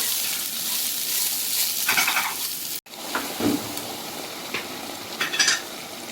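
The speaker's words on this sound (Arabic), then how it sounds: "هبدأ بقى ان انا انزل عليها كده بالرز والعدس زي ما احنا شايفين، واقلب كده كويس" Rice and lentils stirred into golden fried vermicelli in a pot, giving a steady sizzle with scraping spoon strokes and a few clinks against the metal, close up with no talking.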